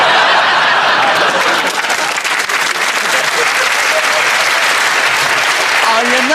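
Studio audience applause for a panel-game comedy show, a dense steady clapping that fills the whole stretch with a few chuckles mixed in, and a brief voice surfacing near the end.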